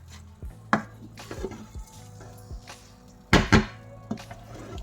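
Jollof rice being mixed in a cooking pot by lifting and dropping rather than stirring, giving scattered scraping and knocking of a utensil against the pot, with two sharper clanks near the end and no talk.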